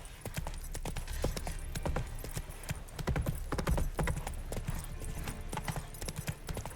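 Hooves of Roach, the horse in The Witcher 3 video game, clip-clop steadily at a brisk trot, close and continuous over a rumbling ambient bed.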